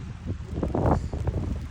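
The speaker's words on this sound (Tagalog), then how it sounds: "Anya karon hangin pa jud magata." Strong wind on a rainy day buffets the microphone with a loud, steady roaring rumble that swells briefly in the middle.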